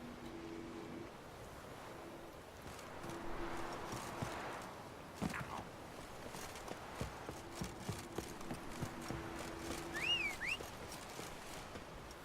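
Roach, Geralt's horse in The Witcher 3 video game, walks with rhythmic hoof clip-clops over a breezy backdrop of wind and surf, the steps growing more distinct toward the end.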